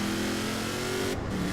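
A truck engine in Forza Horizon 4 revs continuously at a strong steady pitch, loud and close throughout without any talk.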